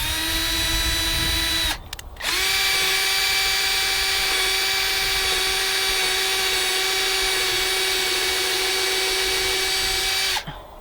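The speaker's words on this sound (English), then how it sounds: "I've pre-drilled my first hole." A power drill whines steadily while pre-drilling a hole in a deck post for cable railing, with a short pause and restart near the start and no talk.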